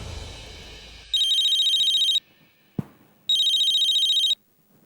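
A telephone ringing while a call is placed: two long electronic ring bursts, each about a second, separated by a short pause and a click, clear and close.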